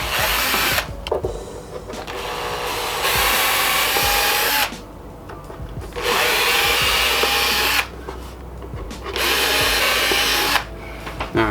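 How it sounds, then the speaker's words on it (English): A power drill bores pilot holes for wood screws while building a DIY laptop stand, running in three or four sustained, loud whining bursts separated by short pauses. "drill these pilot holes for the wood screws"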